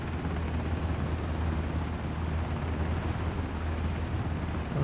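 Helicopter rotor in the video game Ring of Elysium, a steady loud low-frequency drone and thump that holds unbroken throughout, with no voices over it.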